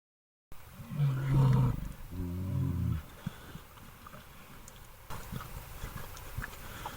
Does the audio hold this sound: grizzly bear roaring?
yes